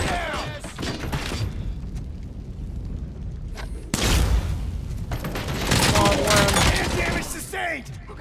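Gunfire from Robocop Rogue City: a dense fusillade of shots with a heavy boom near the midpoint and further bursts later, mixed with voices talking over the action.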